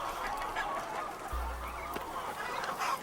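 Pasture poultry honk and cluck at a moderate distance in open outdoor air, with a brief low rumble partway through.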